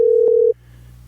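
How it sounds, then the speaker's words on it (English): A telephone ringback tone on an outgoing call sounds as one steady, loud, sustained burst lasting about half a second, then cuts off to a quiet line hum. "Phone is ringing."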